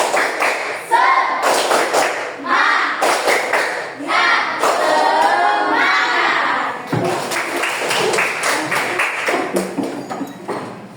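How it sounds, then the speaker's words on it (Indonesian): A classroom of students in an Islamic religious education lesson performs a rhythmic spirit-clapping chant, with bursts of patterned hand claps alternating with chanted voices in a lively, loud call-and-response sequence. "Tepuk semangat."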